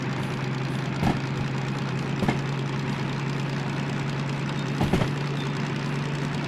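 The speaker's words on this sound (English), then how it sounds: "Okay, now you hear the engine." The diesel engine of a DM3 locomotive in the train simulator Derail Valley idles with a steady low drone, broken by a few brief knocks or clunks, close and alone without talk.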